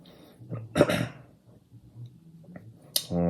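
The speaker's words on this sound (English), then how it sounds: "Still got my COVID cough." A single short, harsh cough from a lingering COVID infection bursts out close by among quiet rustling, followed by a brief throaty sound.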